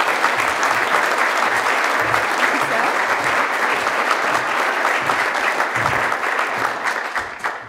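A large audience applauds steadily as Professor Kathryn North is welcomed to the podium at an oration event. The dense clapping holds loud and even from start to finish, then begins to thin at the very end, with no talking over it.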